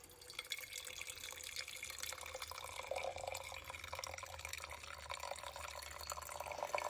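Coffee poured from a French press into a cup, a soft, steady trickle of liquid running for several seconds, quiet and close.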